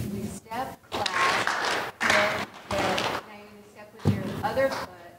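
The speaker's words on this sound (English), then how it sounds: "We're just going to do a step, clap, and then just hit the side of your body." A stepping and clapping exercise: rhythmic bursts of claps, footsteps and hand slaps on the body in a steady step-clap pattern, close and clear, with a voice talking between the beats.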